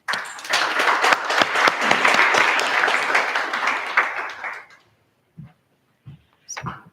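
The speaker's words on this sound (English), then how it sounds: "Another round of applause, ladies and gentlemen" Applause from an audience at a radio thought-leadership session marking World Radio Day, dense and steady for several seconds before fading out, followed by a few faint scattered taps.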